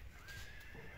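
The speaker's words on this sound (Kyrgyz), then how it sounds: "Бүгүн сатууда 2 жашар кунам бар. Таза кара байыр жылкысы." A two-year-old pure black Karabair horse neighs in a brief, faint whinny, with a thin sustained tone over low background noise and no speech.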